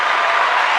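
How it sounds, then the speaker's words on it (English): A short burst of dense, steady applause fills the moment with loud, close clapping and no other sound standing out. "round of applause for that"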